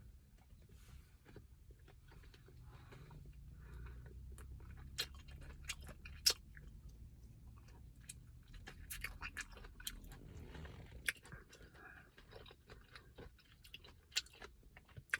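A hard-skinned fruit with a mild lychee-like taste is eaten, with soft, close chewing and scattered crisp clicks and bites over a quiet, low background hum.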